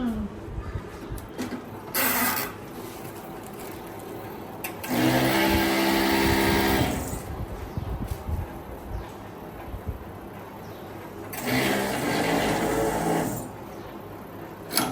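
A round cotton wick making machine whirs in several loud mechanical bursts of a few seconds each, separated by quieter gaps where people talk nearby.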